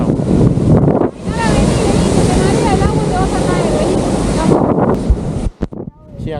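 Strong wind buffets the microphone while waves roll in on Claromecó beach in Argentina, a loud, continuous roar of surf and gusts that drops out briefly near the end.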